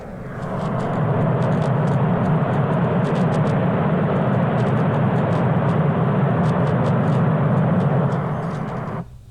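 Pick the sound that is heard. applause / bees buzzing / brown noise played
brown noise played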